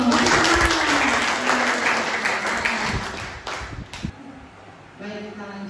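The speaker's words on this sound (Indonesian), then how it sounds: "Tepuk tangan dong." Dense applause from an audience at an indoor talk or seminar, loud and sustained for about four seconds and then fading to quieter room sound, with voices mixed in.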